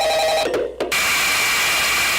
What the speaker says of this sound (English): It's just the phone for like 2 minutes straight.